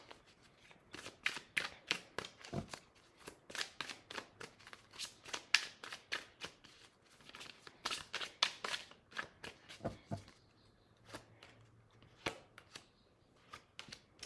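Tarot cards shuffled and riffled in quick repeated bursts with short pauses, crisp and close, with no talking.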